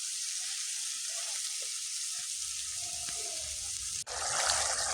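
Small fish fry with a constant loud hiss in a wok, then water is poured in near the end, bringing a sudden burst of bubbling sizzle.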